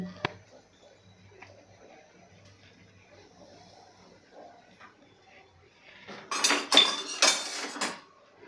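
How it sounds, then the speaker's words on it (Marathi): A spoon scrapes and clinks against a pan as cooked rice for veg fried rice is gently stirred once or twice, soft and close, near the end after a quiet stretch with faint talk. "हलक्या हाताने आपल्याला एक ते दोन वेळा फक्त तांदूळ हा ढवळून घ्यायचा आहे"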